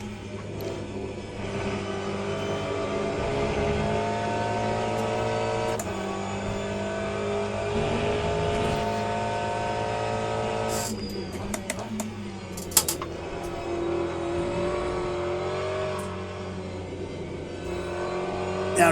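P2 prototype race car in the sim racing game Le Mans Ultimate, its engine droning and revving in a sustained loud tone that rises and falls, with a few faint clicks partway through.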